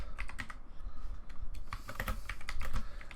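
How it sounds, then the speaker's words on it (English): Rapid, uneven keystrokes on a computer keyboard, close and fairly clear, tapping continuously with a few brief pauses and slightly heavier presses near the end. "I'm just typing a dialogue here."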